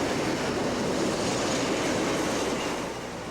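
A Burlington E9 diesel commuter train on the Chicago–Aurora line rolls past close by, a loud, steady rumble of wheels and cars holding for several seconds and easing slightly at the end.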